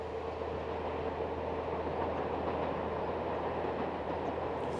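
Austrian Railways Class 999 0-4-2 tank engine on the Schneebergbahn rack railway at Puchberg, a steady, even rumble of the running train with faint rail clatter, unbroken and without voices.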